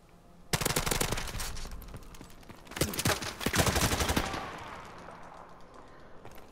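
Gunfire in a gun game match: dense rapid bursts of automatic fire, loud and close, in two main volleys separated by a brief lull, then trailing into scattered, fainter shots and echo.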